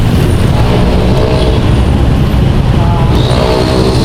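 Heavy rush-hour road traffic around Commonwealth Avenue, with the steady rumble of buses, trucks and cars, a hiss of air brakes, and a constant loud wash of engine noise close by.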